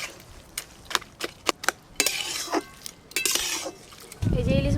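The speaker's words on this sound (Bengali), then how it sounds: "চিনি, ভেজে রাখা ইলিশ মাছের মাথা, সব কিছু একসঙ্গে ভালো করে মিশিয়ে দেব।" A utensil scrapes and clinks in a pot while ash gourd (chal kumro) is stirred with sugar and fried hilsa fish head, in sharp irregular taps, and a loud wet sizzle rises at the end.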